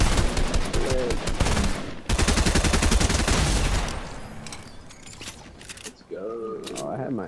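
Rapid SMG gunfire from a Fortnite match rattles in dense, fast bursts, loud and close for the first few seconds, then thinner shots and mechanical clicks follow while a player talks excitedly near the end.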